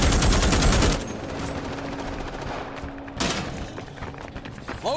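Bursts of rapid automatic gunfire from the video game Starship Troopers Extermination, a dense loud volley at the start, then lighter continuous firing with a fresh sharp burst midway, against game ambience.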